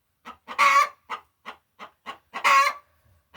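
Chickens cluck nearby, with two loud squawks breaking through a steady series of short clucks.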